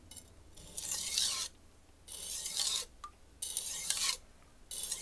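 A Rockwell 66 knife edge is drawn across a sharpening stone on one side to pull off the burr, giving four rough scraping strokes with short pauses between them, close and fairly quiet with no talking.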